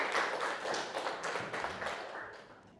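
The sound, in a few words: audience clapping after a magic demonstration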